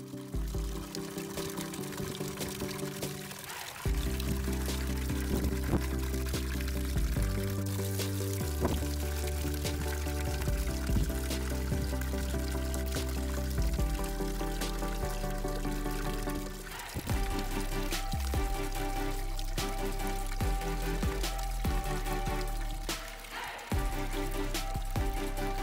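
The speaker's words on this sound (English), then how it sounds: "Next, I refilled my rain barrel to test the float switch functionality." Water pours steadily into a rain barrel fitted with a float switch, a continuous full-bodied rush lasting throughout with resonant tonal ringing that shifts as the level rises.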